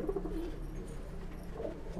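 Pigeons coo steadily in a breeding loft, soft repeated throaty calls at close range against a low constant hum, with no voices.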